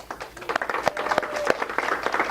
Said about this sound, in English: Let's give Judy a round of applause.